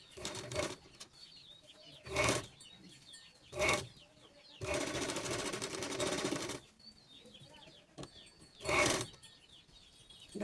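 A sewing machine stitches blouse fabric in several short bursts and one longer run, close and fairly quiet, with soft handling sounds between the runs.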